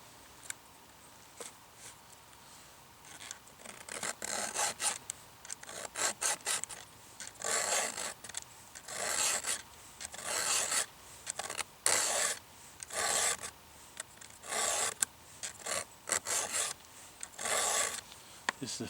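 A hand file sharpens the teeth of a chainsaw chain in repeated rasping strokes, quiet at first and then steady and rhythmic, close to the ear, with no voices.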